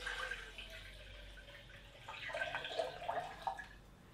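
A liter of water is poured into a metal billy can, a faint splashing trickle that grows into a gurgling, ringing fill, heard quietly without talk.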